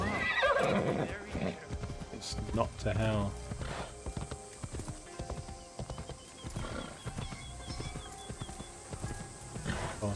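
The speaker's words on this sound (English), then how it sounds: "How fast his horse comes." In Assassin's Creed Shadows, a horse's hooves clop rapidly as it gallops in, with a loud neigh near the start, under someone talking and game sound effects.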